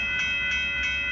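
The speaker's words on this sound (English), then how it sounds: "Here comes Southbound Amtrak Texas 21" Southbound Amtrak Texas Eagle train number 21 at a road crossing, giving a steady rumbling rail roar with sustained horn-like tones and faint rhythmic pulses, loud and close, with no talking.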